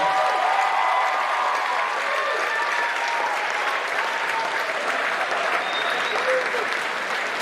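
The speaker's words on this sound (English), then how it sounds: "Put your hands together, ladies and gentlemen. Keep clapping, keep clapping" A lecture hall audience at a Faculty of Life Sciences distinguished alumnus lecture breaks into sustained, dense applause that holds steady for several seconds with no pause.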